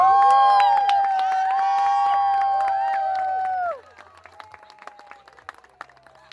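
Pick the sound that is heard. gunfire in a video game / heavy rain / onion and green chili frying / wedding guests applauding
wedding guests applauding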